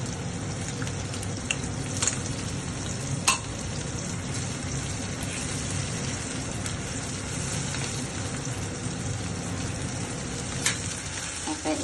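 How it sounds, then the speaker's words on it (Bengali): Onion paste fries in a pan for a rohu fish kalia, a continuous soft crackling sizzle with occasional sharp ticks and spatters, fairly quiet and steady throughout. "এটা দিয়ে একটু সোনালি সোনালি করে ভাজতে থাকবো"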